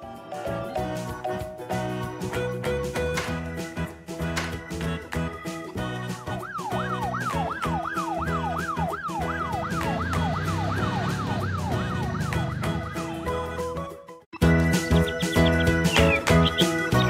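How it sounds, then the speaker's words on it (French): A police car siren wails, sweeping rapidly up and down over busy music and engine noise, cutting off briefly before loud music resumes. "Activons la lumière et les sirènes!"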